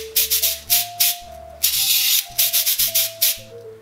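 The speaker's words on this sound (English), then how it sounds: "You can get a short, sustained sound on this instrument by starting the rotation of the beads in one direction and then turning your hand back the other way once they are suspended." A cabasa (afuche) with rotating beads gives short scraping swishes over a bed of pitched backing music, a rapid run of brief rasps, then one longer sustained rub, then more quick strokes, close and clear.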